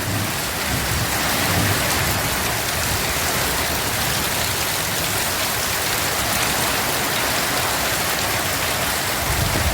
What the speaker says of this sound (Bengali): প্রচণ্ড পরিমাণে বৃষ্টি